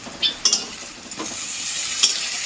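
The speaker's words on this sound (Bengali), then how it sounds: "বেগুনটা ভাজা হয়ে গেছে তুলে নি" Eggplant fries in a pan with a brief, moderate sizzle, broken by a few close metallic scrapes and taps as the pieces are lifted out.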